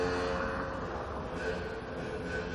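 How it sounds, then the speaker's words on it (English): An LRT light rail train rolls past in a city neighborhood, a loud continuous rumble with faint wheel clatter filling the whole stretch, no talking over it. "At hinihintay kong dumaan yung train, LRT."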